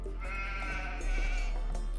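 Sheep bleating in the video game Age of Empires II, a couple of drawn-out bleats standing out clearly over a continuous game background hum.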